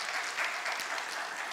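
A church congregation gives encouraging applause for a student after a special song at a worship service, a brief, steady patter of many hands at moderate level.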